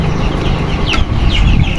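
Chickens in a poultry shed cluck and squawk close by in a dense, loud chorus, with several sharper calls cutting through the constant flock noise.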